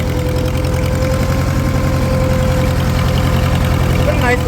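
A Farmall 350 tractor, started after sitting five years, idles nearby with a loud, steady rhythmic chugging and a slight knock, while people talk over it.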